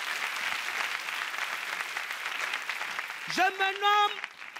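Applause from a comedy show audience, a steady wash of clapping throughout, joined near the end by a short sustained musical tone.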